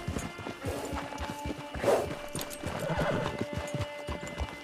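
A horse in the video game Red Dead Redemption 2 clip-clops along at a walk, hooves thudding in a steady uneven rhythm, with a whinny midway and faint ambient game sound underneath.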